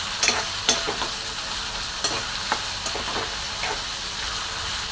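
Onion sizzles in a hot pan with a continuous close hiss, punctuated by a few sharp clicks and scrapes of a utensil stirring early on.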